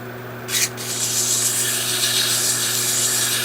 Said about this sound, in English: I think we're ready to sand and finish the cup.